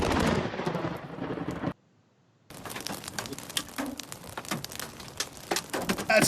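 Thunder from a nearby lightning strike in a rainstorm: a loud, rumbling burst, a moment of near silence, then rain pattering with sharp ticks and crackles.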